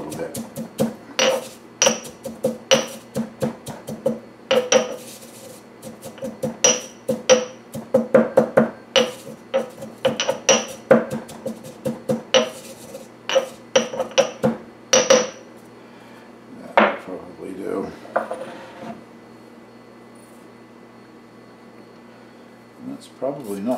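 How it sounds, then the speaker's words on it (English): Pestle and mortar breaking up dried herb leaves for herbed Gouda cheese, a series of sharp, irregular knocking thuds in clustered bursts close by, with talking in between and a quieter spell toward the end. "I'm not going to grind it into a powder or anything in the pestle and mortar."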